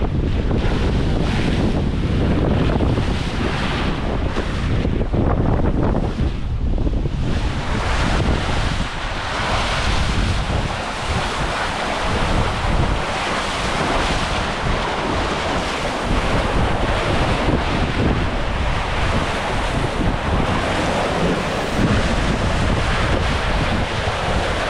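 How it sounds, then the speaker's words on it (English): Sea waves and surf rush past a sailboat crossing the Caribbean Sea, a loud continuous roar of churning water with heavy wind buffeting the microphone throughout, and no talking. "There's a wave, you go top of the wave, and then you get the surf."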